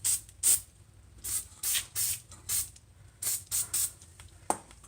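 Short repeated bursts of aerosol lubricant sprayed onto a stubborn 17mm rear suspension bolt on a 1991 Toyota MR2, about a dozen quick hissing puffs in an irregular rhythm, close and fairly loud, with no talking.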